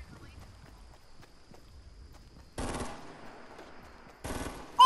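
Two loud bursts of sniper gunfire in a Fortnite match crack out seconds apart over quiet footsteps and background game sounds, each shot sharp and echoing briefly.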